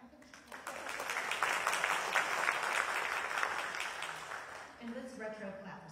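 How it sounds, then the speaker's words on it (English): A crowd claps steadily for several seconds, swelling then fading as a voice starts speaking at the end. "Should we clap? I think we should clap."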